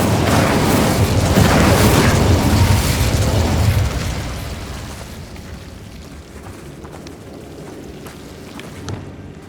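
Incendio fire spell cast in Hogwarts Legacy, a loud roaring, crackling burst of flame for the first few seconds that fades into a quieter hissing, sputtering tail with a small pop near the end.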